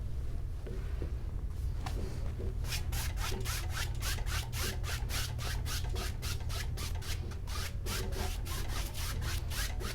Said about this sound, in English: just put some green down in the bottom and just kind of scrub it back and forth